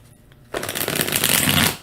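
Deck of tarot cards riffle-shuffled close by, a sudden dense fluttering burst that runs for just over a second after brief quiet.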